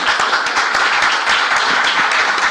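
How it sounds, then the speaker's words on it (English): An audience at an AI panel discussion applauding a speaker, a loud, dense burst of many hands clapping close by, sustained and fairly even throughout. "Let's all clap."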